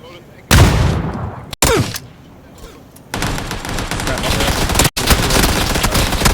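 Video game gunfire during a violent multiplayer match, loud rapid bursts of automatic fire that start abruptly and return in dense, sustained volleys with short gaps, while players talk over it.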